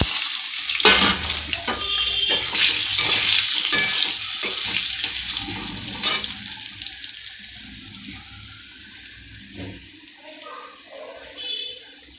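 Fried potatoes dropped into hot oil seasoned with cumin, for a dish with eggplant and tilapia, bursting into a loud, hissing sizzle that gradually thins out, with clanks of the spatula toward the end.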